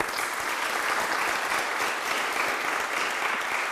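Audience at a government funding announcement gives a steady round of applause, an even, continuous patter of many hands from start to finish.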